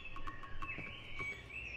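Birdsong in a dark, quiet outdoor scene from the horror video game Cry of Fear: faint, repeated high chirps and tweets over a soft ambient hiss, with no talking.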